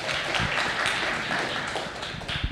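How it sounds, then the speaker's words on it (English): Audience applause for a student presenter at an Astronomy on Tap evening in San Antonio, Texas: a steady, dense wash of many hands clapping at once, fairly close and continuous throughout. "Please give him a round of applause."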